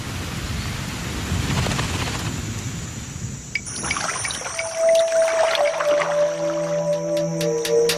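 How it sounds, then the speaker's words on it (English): Heavy wet-season rain pours steadily over the Pantanal wetland with low rumbling, followed by sustained tonal calls and hums in the second half. "4 feet of rain will fall in the Pantanal during the wet season"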